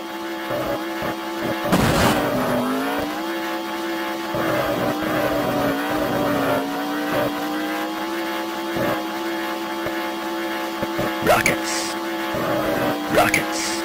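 Toy-car style racing in a retro PC video game, micro-machines style: continuous buzzing engine whine that rises and falls in pitch as the cars accelerate and corner, with occasional bursts of crashes or effects, loud and steady.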